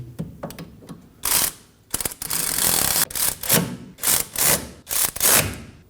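Hand wrench snugging down rear hub assembly bolts on a 2014-2023 Ford Transit Connect during a wheel bearing replacement: close, repeated ratcheting and rasping strokes in quick bursts, loud and alone with no talk.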